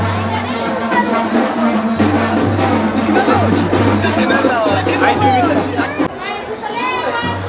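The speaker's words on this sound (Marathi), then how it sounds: "7वी माळे म्हणून आज एवढी गर्दी आहे." Dense crowd noise fills a busy temple on the seventh day of Navratri at Firangai Devi, Kurkumbh, with steady babble, shouts and a low continuous hum throughout, fairly loud and close.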